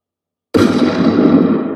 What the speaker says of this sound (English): Let's do a shot, like somebody shooting a gun.